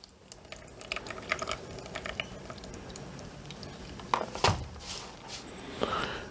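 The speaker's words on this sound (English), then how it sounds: "it's also draining quite a bit of water too" Water drains out of incubation substrate and drips and patters into a bucket nearby. The trickle keeps going, with a few louder splashes and drips breaking through near the end.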